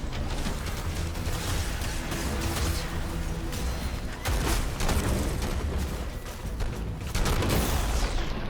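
Dense, continuous assault rifle fire in the mech tactics game Phantom Brigade: rapid bursts with heavy booming impacts that stay loud across the whole stretch, with no pause or voice.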